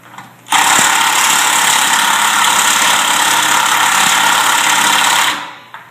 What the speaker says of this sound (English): Favorite tool for the job. Milwaukee Fuel impact driver.